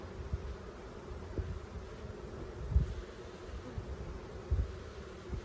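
Honey bees drone in a dense, low steady hum around a hive in late October, with faint thumps and rustles of handling underneath the buzz.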